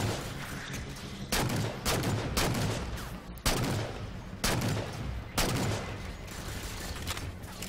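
Gunfire from a slow-firing weapon in Halo 4 Spartan Ops: a steady stream of shots with several louder, sharper blasts at irregular intervals over dense, continuous battle noise.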